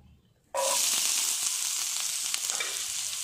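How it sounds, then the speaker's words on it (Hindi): Onions drop into hot oil for a vegetable samosa filling, setting off a sudden loud sizzle after a quiet moment that then holds as a steady, close, crackling fry with no talking. "मैं 2 से 3 चम्मच जो है वो ऑयल के लूँगी, ठीक है। और इसके अंदर मैं डाल रही हूँ प्याज"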